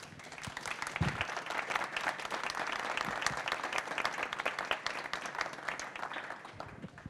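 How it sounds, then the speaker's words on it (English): Sustained audience applause at a nuclear energy conference lunch debate on advanced reactors, dense steady clapping filling the room for the full stretch with no speech. "I think they deserve a big applause"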